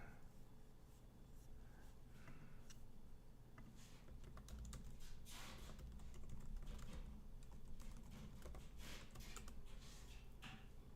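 Computer keyboard typing during a livestream hangout, a faint, fast patter of key clicks in irregular bursts over a low steady room hum, with no talking.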